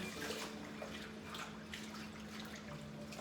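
Running water splashes steadily as collard greens are rinsed and swished, a continuous close wash of flowing and dripping water with no talking.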